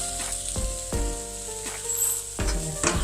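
Sautéed okra tipped into a pan of sizzling capsicum masala, with steady frying crackle and a few sharp stirring scrapes and clanks of a spoon against the pan.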